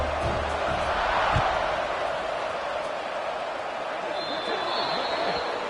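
A football video game crowd keeps a steady, buzzing roar after a score, a broad continuous murmur at moderate level with a faint voice occasionally above it.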